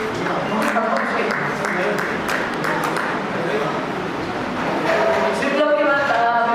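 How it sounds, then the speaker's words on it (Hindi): An audience at the Amar Kala arts festival applauds steadily, the clapping running throughout as voices talk over it and a few bright tones ring near the end. "तालियां हमारे सभी साथियों के लिए"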